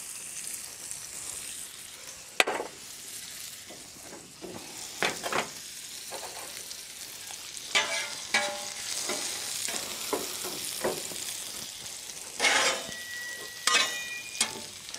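Red onion frying in clarified butter and olive oil on a Blackstone griddle, a soft continuous sizzle punctuated by intermittent spatula scrapes and taps, nearby.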